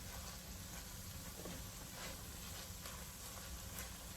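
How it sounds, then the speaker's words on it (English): Okra sautés in a pan with a steady, faint, continuous sizzle and hiss that never lets up and has no clear separate strokes. "I'm going to stir these around a little bit, saute them for a little bit"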